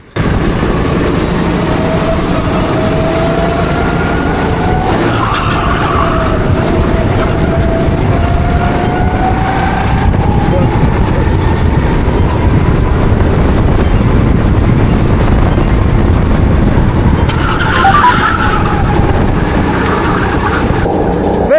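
Go-kart engine running flat out on a fast flying lap, a loud constant droning whine that rises and dips in pitch through the corners over heavy rushing wind noise.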